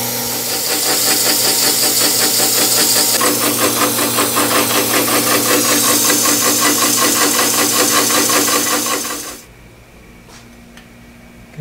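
A metal part for a South Bend 11 lathe spindle stop has its end cut through, giving a loud, steady rasping, pulsing cut that runs for about nine seconds, then stops abruptly, leaving quiet room tone.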